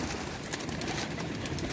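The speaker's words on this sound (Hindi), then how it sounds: "ये फिरोजपुरी कबूतर है" Soft, muffled Ferozpuri pigeon coos and fluttering rustle faintly against a hissy background, fairly distant and low in level.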